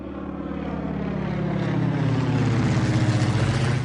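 An airplane carrying an atomic clock on a flight of several hours drones steadily, a loud, continuous engine hum with a throbbing low pulse that swells slightly as it goes on.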